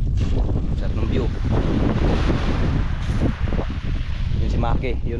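Strong wind blows at sea from a boat, buffeting loudly and roughly against the microphone with water noise underneath, while someone talks through it.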